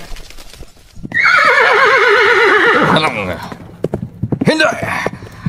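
A loud, wavering horse whinny rings out up close, followed by scattered hoof clatter and thuds.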